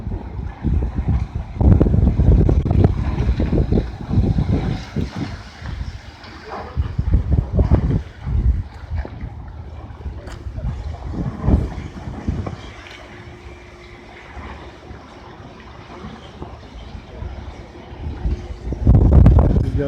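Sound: wind blowing

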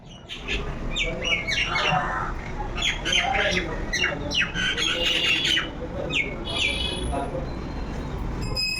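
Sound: birds calling outdoors

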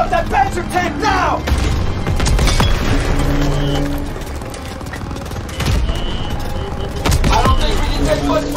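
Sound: gunfire and explosions destroying a German Panzer tank, Call of Duty WWII video game

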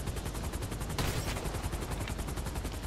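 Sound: gunshots in video game GTA 5

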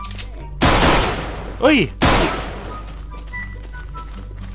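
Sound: gunfire in Minecraft video game

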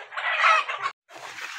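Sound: brooding Sonali hen clucking

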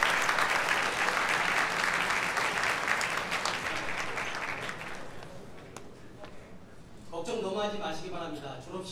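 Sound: audience applause at a graduation ceremony

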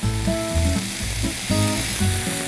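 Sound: stir-frying webfoot octopus, pork and onion in a pan

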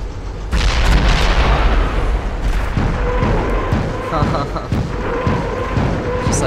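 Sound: mortar artillery fire in the video game Company of Heroes

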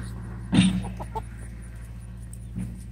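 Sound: chickens clucking

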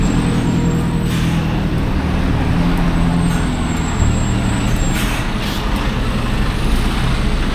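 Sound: road traffic with HGV trucks passing

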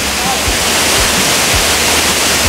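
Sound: Philippine waterfall

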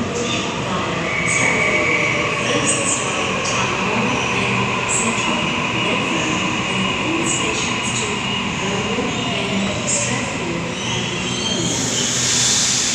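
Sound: train at Wynyard station platform

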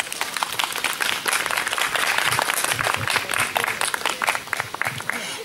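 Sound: audience applause for a guest speaker

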